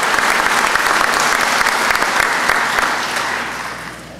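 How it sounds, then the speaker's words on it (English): A graduation audience gives a loud round of applause for police academy cadets, a dense, steady burst of clapping that gradually tapers off near the end. "How about a round of applause for our cadets from Class 241"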